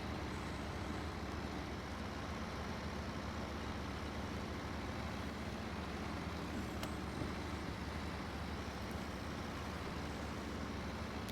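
A heavy truck engine labouring in low gear in the Snowrunner video game, a steady droning rumble that holds unchanged throughout, close and continuous with no talking.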